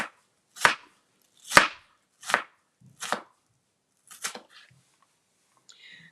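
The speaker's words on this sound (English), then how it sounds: "Let's try to dice these onions." A knife dices layered onion on a cutting board in six crisp, evenly spaced chops, close and distinct against near silence, with a soft scrape at the end.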